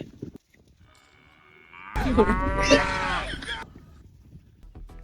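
A man imitates a cow's moo, a loud drawn-out bellowing call lasting over a second, preceded by quiet background sounds.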